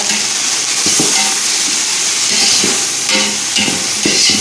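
Tomato and mint leaves sautéing in a pan, a close, loud, steady sizzle with occasional stirring scrapes and clinks, no talking.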